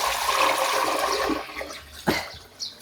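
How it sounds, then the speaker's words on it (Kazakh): Water poured into a pot for steaming lamb, a loud gushing splash that tapers off, followed by a couple of brief knocks or drips near the end. "суын құйып аламыз"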